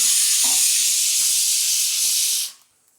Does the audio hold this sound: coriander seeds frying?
yes